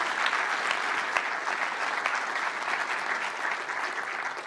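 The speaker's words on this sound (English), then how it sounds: "Can we give them a round of applause for being vulnerable?" A seated audience at a talk on sport and identity applauding, a dense, even clapping that holds steady throughout at moderate level.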